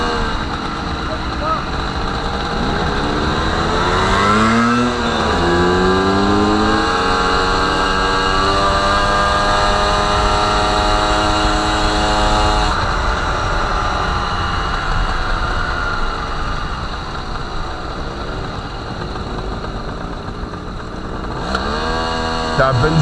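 An MBK 51 moped engine runs loudly throughout, its pitch climbing and falling in several rev sweeps, with a voice talking over it near the start and end.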